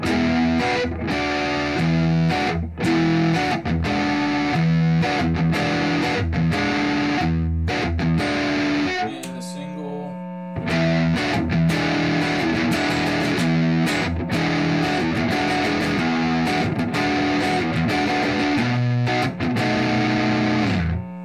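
A heavily distorted Carvin DC127C electric guitar on its neck pickup plays loud chords and riffs, with a short quieter break in the middle before the crunchy playing resumes.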